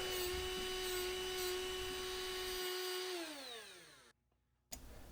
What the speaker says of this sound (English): I'll switch over to my little die grinder here, and use that to remove all the burrs that are on the part